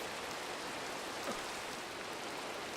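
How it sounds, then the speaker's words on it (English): Steady rain falling in the video game Minecraft, a soft continuous hiss of drops with no gaps or other sounds, fairly quiet and even throughout. "Still raining? Can't ever really hear it until about now."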